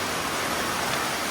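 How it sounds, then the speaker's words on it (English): Heavy rainy-season downpour during a thunderstorm in the Philippines, a dense, steady roar of rain with no break and no thunder, heard from shelter. "So it's still pouring."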